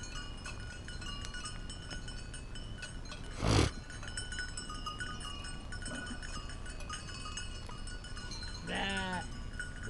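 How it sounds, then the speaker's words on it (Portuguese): A sheep bleats once near the end, a short wavering call over steady outdoor background noise, while a sheep wearing a bell runs around at a Saint Anthony bonfire gathering in Sertânia, Pernambuco; a brief sharp knock comes earlier. "Olha a ovelha doida correndo com chucaia."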